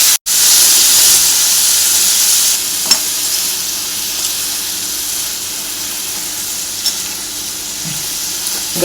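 Cauliflower and potatoes frying with masala in a pan give off a steady, loud sizzle and hiss that carries on throughout with no talking.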